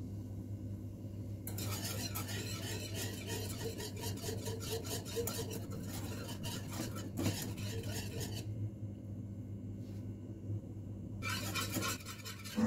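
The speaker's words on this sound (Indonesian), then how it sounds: "Kita aduk sesekali aja ya, supaya tidak ada larutan agar ataupun gula yang mengendap ya." A spoon stirring an agar and sugar pudding mixture in a pot while it heats, giving a steady scraping, rubbing sound against the metal throughout, close and moderately loud, with no talk.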